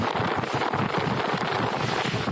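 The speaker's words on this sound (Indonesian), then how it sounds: "Angin kencang tiba-tiba menyapu sejumlah tenda UMKM milik warga hingga membuat panik." Strong gusting wind sweeping across an outdoor festival site with market tents in Mamuju, loud continuous roar and buffeting against the microphone with no speech.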